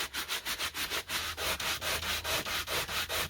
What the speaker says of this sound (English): I'm really having to work to sand it